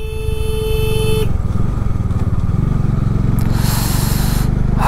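Motorcycle climbing a twisting mountain road toward Kedarnath at about 30 to 40 km/h, its engine drumming loudly and steadily throughout, with a sustained horn-like tone sounding over it during the first second.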